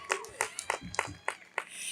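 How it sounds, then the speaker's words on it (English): Graduation audience clapping, heard as a small number of separate claps in a fairly steady rhythm, moderately close and not swelling into a full ovation. "Keep the applause going for our families"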